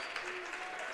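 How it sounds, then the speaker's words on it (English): Basketball bench and home fans applauding a defensive stand at a high school game in Ankeny, a steady wash of clapping filling the whole moment without a break. "Centennial bench and fans applaud the defense"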